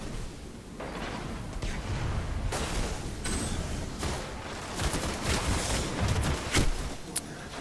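Powered-up rifle fire in the shooter game Destiny, a dense run of sharp gunshot bursts and mechanical clatter over a steady noisy battle backdrop, fairly loud and continuous without speech.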